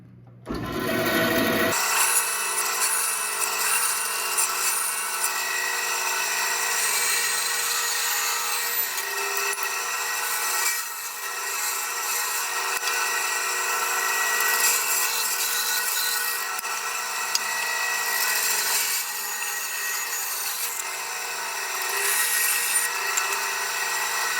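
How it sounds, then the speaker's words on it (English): A bandsaw runs continuously, its blade rasping through wood in a loud, steady cut with slight shifts in pitch as the feed changes. "now it's time to cut it out on the bandsaw"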